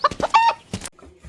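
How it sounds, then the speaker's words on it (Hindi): Chickens at a village poultry seller's shop give several quick, close clucks in a short burst before fading to near silence. "अब और मुझे अच्छी वाली 12 मुर्गियां दे दीजिए"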